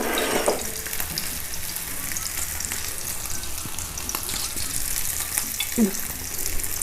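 Potato cutlets (aloo tikki) fry in oil without an egg coating, giving a steady, fairly quiet sizzle with crackling bursts and occasional clinks of a utensil.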